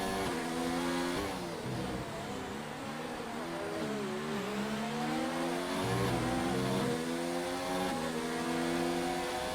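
Several race cars of an electric racing series running nose to tail, a loud, high whining drone whose pitch sweeps up and down as the cars accelerate and brake, steady and close with no voices.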